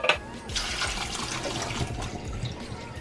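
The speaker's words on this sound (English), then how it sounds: "we're going to rinse it off really well because we don't want any of that juice that's it's been soaking in to come into our soup" Canned hominy being rinsed in a strainer under running tap water, a steady splashing water stream heard alone, for a pozole soup.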